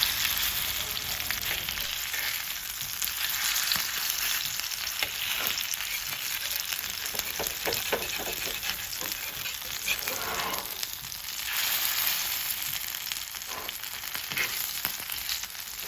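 Fish sizzles steadily in oil on a hot tawa, a dense bright frying crackle with a few soft knocks as the pieces are turned, close and continuous throughout.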